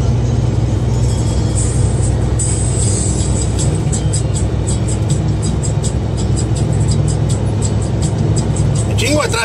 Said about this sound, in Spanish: Un chingo de tráfico.